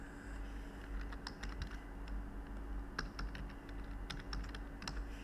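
Typing on a computer keyboard while entering a student's home address into an online school admissions application, with scattered bursts of key clicks over a steady low hum, fairly close and alone.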